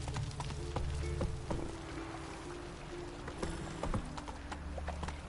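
Hooves of the horse Roach clip-clop at a steady trot in The Witcher video game, a close, rhythmic series of hoof knocks over a low ambient bed, with no talking.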